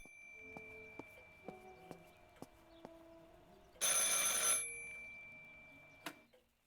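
A telephone rings in the video game Martha Is Dead over a faint ticking in a quiet room, with one burst of bright ringing and soft, sparse clicks before and after.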